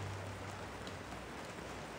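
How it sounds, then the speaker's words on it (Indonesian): Steady rain falls in a dense, even hiss that fills the whole clip, with a low hum underneath and no talking. "Sekarang hujan ya."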